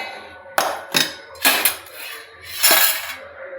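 Plate and cutlery handled at a meal: several sharp clattering clinks of metal on dish in separate bursts, fairly close, with no talking over them.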